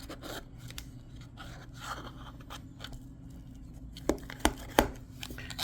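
Butter knife run around the inside of a metal Spam can, close soft scraping strokes ending in a few sharp metallic clicks against the tin.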